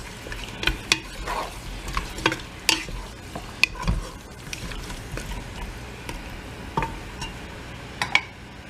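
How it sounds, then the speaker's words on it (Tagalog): Chicken pieces being stirred in a pot for tinola chicken soup until browned, with repeated sharp scrapes and clinks of a utensil against the pot over a soft sizzle, close and fairly loud, no talking. "Hahaluin natin hanggang sa kulay brown ang chicken."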